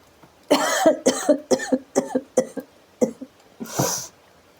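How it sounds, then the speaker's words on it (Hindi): A fit of repeated coughing, about eight harsh bursts in quick succession, close and loud, ending with a longer, raspier cough. "मेरे को ना प्लीज़ खांसी हो रही है, एक सेकेंड"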